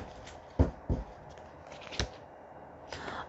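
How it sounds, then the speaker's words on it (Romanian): Tarot cards are shuffled by hand close to the microphone in a quiet room, with soft, sparse riffles and light taps. "mai amestec o dată și începem"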